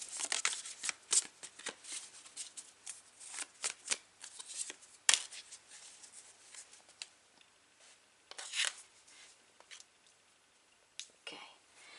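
Tarot cards being shuffled close up, a series of crisp riffling flicks and snaps in uneven bursts, louder at first and thinning out toward the end.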